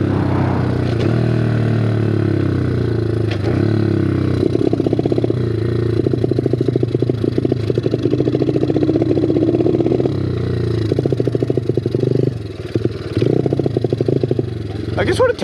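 A dirt bike engine runs up close while being ridden, a steady mid-pitched motor drone with clattering pulses and rising and falling revs throughout.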